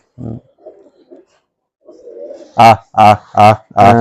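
Giribaz pigeons at a pigeon farm give a few soft, low coos, then someone talks loudly nearby.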